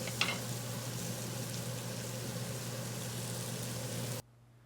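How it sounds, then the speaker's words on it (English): Tomato pie filling with Italian seasoning, parsley and basil sautéing in a pan, a steady soft sizzle with one brief clink near the start, ending abruptly, with no voices. "And we'll saute that up."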